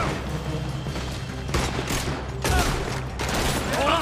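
Gunfire in Red Dead Redemption 2 during a supply wagon robbery: several cracking shots and a burst of rapid fire over a busy game soundscape.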